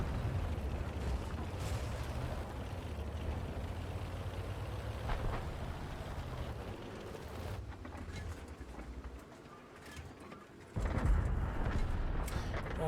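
HEAT rounds striking a tank in a tank video game, heavy low rumbling impacts and engine drone with a sudden louder burst near the end.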